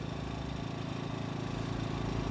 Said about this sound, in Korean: 자 발전기 소리 들립니다.